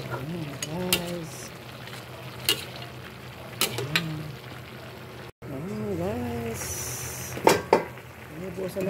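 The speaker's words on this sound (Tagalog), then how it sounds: "lalagyan na lang natin ng pangalawang gata na siyang pagpapakulo hanggang siya ay lumambot" Chicken caldereta simmering in second coconut milk in a pan, with soft bubbling and sizzling under repeated scraping stirs and clinks of a utensil, while someone talks intermittently.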